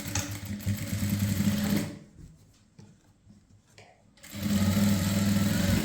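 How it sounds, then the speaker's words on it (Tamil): A sewing machine runs in two steady, loud bursts while top-stitching a strip laid over the seam of an A-line kurti, with a quieter pause mid-run before the whirring resumes. "இதுக்கு மேலே ஒரு பதிச்சு தையல் போடணும்"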